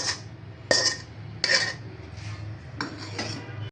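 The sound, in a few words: grated coconut being put into a bowl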